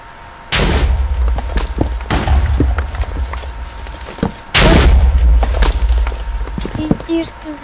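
Two heavy booming Minecraft explosions about four seconds apart, loud and close, with crackling debris and scattered sharp shots between them.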